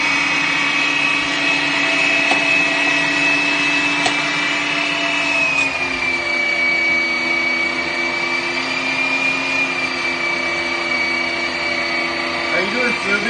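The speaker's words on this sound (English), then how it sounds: "machine that's grinding our own hamburgers" An electric meat grinder grinds hamburger meat, a steady, loud motor whine with a constant high tone that dips slightly in pitch midway as the load changes, running continuously and close by.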